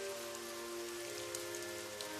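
Heavy rain pours down around a street food cart, a dense continuous patter of drops striking surfaces, with a faint steady tonal hum underneath and no voices.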